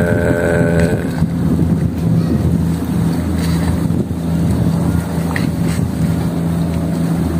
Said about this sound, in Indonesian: kedatangan kapal dari Gili Trawangan, dari Bali kayaknya nih